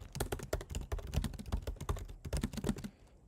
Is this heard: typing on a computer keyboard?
yes